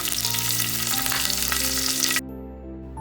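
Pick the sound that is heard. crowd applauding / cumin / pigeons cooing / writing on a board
cumin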